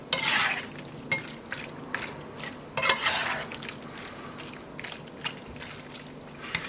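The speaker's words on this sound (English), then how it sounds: "the first step is to stir this pretty vigorously" Lemon juice, cheese and oil stirred vigorously in a bowl for a lemon pasta sauce, scraping and clinking strokes in irregular bursts, close and moderately loud, no talk.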